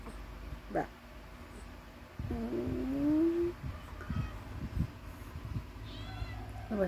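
A house cat meowing indoors during a morning at home, a short cry followed by a long, drawn-out rising meow, close by, over household background noise with people talking.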